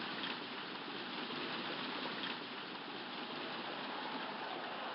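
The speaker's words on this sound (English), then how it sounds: "the clouds have moved in quickly here in Philadelphia. Here comes the rain." Rain begins falling over a Philadelphia ballpark in the Hardball baseball video game: a steady, even hiss of downpour, muffled and slightly dull, continuing without a break.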